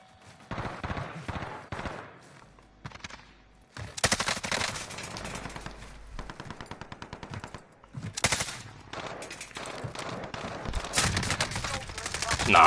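Rapid automatic gunfire from a first-person shooter video game, dense bursts and sustained rattling volleys with short gaps, loud and close throughout.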